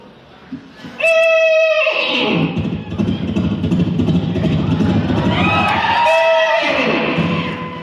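A man vocally imitates a horse arriving for an entrance at a college event in Latur, producing two loud, high whinny-like calls with a rough, sustained stretch between them, surrounded by crowd noise.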